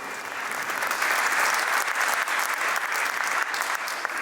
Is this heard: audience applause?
yes